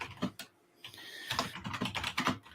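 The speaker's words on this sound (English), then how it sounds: "Sorry, I'm just typing away." Rapid, irregular typing on a computer keyboard, close and fairly quiet, with bursts of key clicks separated by a brief pause.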